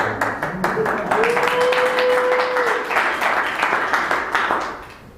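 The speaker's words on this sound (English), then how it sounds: "A round of applause" Members of a Toastmasters public speaking meeting clap in a steady, moderately loud burst, with a sustained voice-like tone running under the applause before it tapers off.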